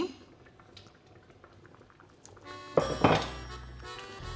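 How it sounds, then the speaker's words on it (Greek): Homemade tomato soup reaches its first boil in a pot, giving a soft bubbling simmer that turns into a louder burst of rolling bubbles and clatter partway through. No one speaks. "Αφού έχει πάρει την πρώτη βράση"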